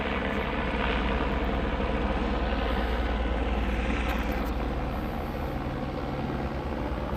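Police helicopter circling overhead at a Tempe perimeter, its rotor and engine making a steady, loud, droning thrum throughout with a low rhythmic beat, said to sound unhealthy or off.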